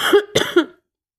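Three quick, harsh coughs in a row, close and fairly loud, followed by silence.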